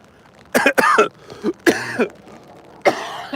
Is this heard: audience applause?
no